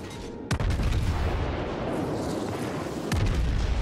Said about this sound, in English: my anti-aircraft guns are lighting up on some,